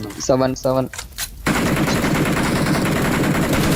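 Sniper rifle fire in a shooting video game: after a short voice, a dense, loud, continuous burst of rapid gunfire fills the rest of the clip.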